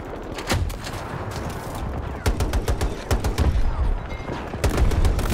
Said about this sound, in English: These people are shooting the map with small firearms right now